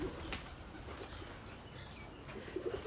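Pigeons being fed outdoors coo softly alongside a brief burst of wing flapping, faint and distant over steady background noise.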